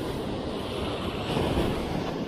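Rough sea surf at a fishing spot in Pangasinan gives a steady broad wash of waves with wind noise on the microphone, no voices.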